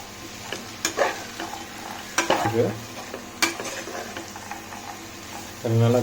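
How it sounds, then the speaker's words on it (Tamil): Mixed vegetables for a hotel-style veg pulav are stirred and lightly sautéed in a pan, with scraping spoon strokes and sizzling in irregular bursts and a louder sizzle near the end. "இந்த காய்கறியில் வந்துட்டு ஒரு 3லேருந்து 5 நிமிஷம் வந்து சும்மா லைட்டாக புரட்டி"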